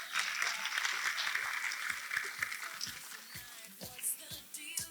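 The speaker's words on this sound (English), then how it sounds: "One last round of applause." A festival audience gives a closing round of applause for a youth panel, many hands clapping steadily and fairly close, with a few sharper individual claps and a faint voice near the end.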